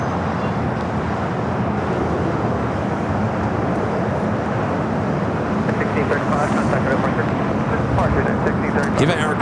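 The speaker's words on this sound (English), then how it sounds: "Eva Air Cargo 777 freighter rolling out of here" An Eva Air Cargo Boeing 777 freighter taxis at LAX, a loud, continuous broadband engine roar with steady rumble throughout.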